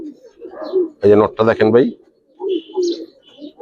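Silver Giribaz and colored pigeons cooing in soft repeated bursts, close by, with someone talking loudly in between.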